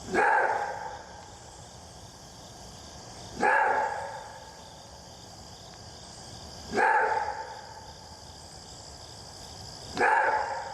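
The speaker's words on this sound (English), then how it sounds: "They also have an interesting call, which is described as a roar bark, and here's what it sounds like." Recorded roar-bark call of a Kryn wolf: four loud, harsh barking bursts spaced about three seconds apart, each fading out over a steady hiss of background noise.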